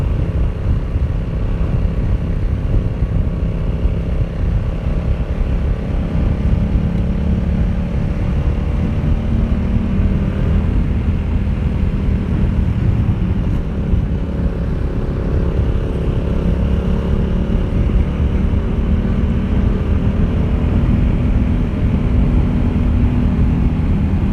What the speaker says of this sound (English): So hopefully you can hear that exhaust alright.